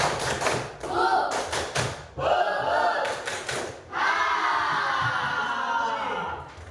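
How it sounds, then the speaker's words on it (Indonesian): A seventh-grade class in a lesson performs a rhythmic spirit clap, bursts of unison claps alternating with group chanting voices, loud and close, building into a sustained shout near the end. "Tepuk semangat."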